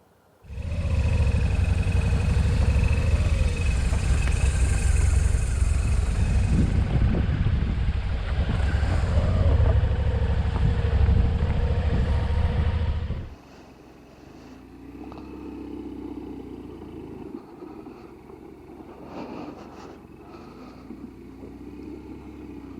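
A motorcycle rides along a road toward Kaslo through New Denver, British Columbia, its engine and wind roar loud and steady for about thirteen seconds, then falling to a lower, quieter rumble.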